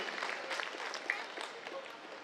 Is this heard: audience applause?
yes